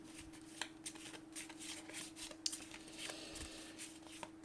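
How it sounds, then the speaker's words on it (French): A deck of cards being shuffled at a tabletop setup of the Aeon's End card game, with a soft riffling flutter broken by a few sharper card snaps. The sound is quiet and close, over a faint steady hum. "Hop, on va mélanger quand même"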